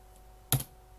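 A single computer keyboard keystroke, one short sharp click heard close up against a quiet, faintly humming room.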